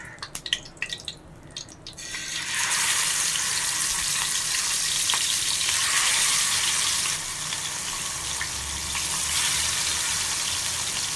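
Hot oil on a tawa for frying fish: a few scattered drips and taps, then a sustained, loud, close sizzle that runs steadily with slight swells until the end.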